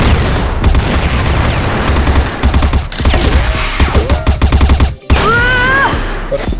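Grenade blasts and rapid gunfire in the CrossFire video game, loud dense bursts of shots with booming hits, a sudden cutout near the end, then a whistling tone.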